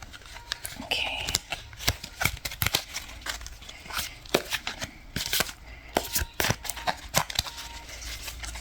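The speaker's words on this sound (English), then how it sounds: "let me pull some tea leaf cards here" Tea leaf oracle cards being shuffled, with a steady run of papery riffles and flicks close up for several seconds, no talking.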